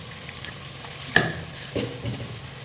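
Mustard seeds, urad dal and a pinch of fenugreek fry in hot oil for a village-style fish curry, a soft steady sizzle with a sharp pop near the middle and faint stirring.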